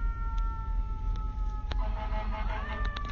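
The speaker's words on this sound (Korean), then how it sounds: "여러분 지금 소방차의 그 소리를 들으시죠?" A fire engine siren on a New York City street, its wailing tones rising and sliding over steady low traffic rumble, moderately loud and continuous.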